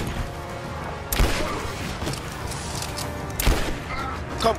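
Gunfire during a headshot in the video game Rise of the Tomb Raider: two sharp, loud shots a couple of seconds apart, cutting through a constant dense background of game noise.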